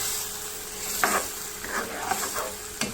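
Chopped masala sizzles and crackles in hot oil while being stirred in a pan for matar white biryani, with a continuous close fry hiss and intermittent scraping stirs of a utensil.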